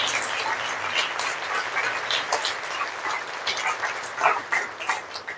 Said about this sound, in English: Round of applause for all the students.